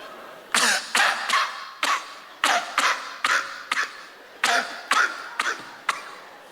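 A performer's voice imitates a small Jack Russell terrier coughing, a rapid series of about a dozen harsh, wheezy hacks in quick clusters, loud and close with no talking over them.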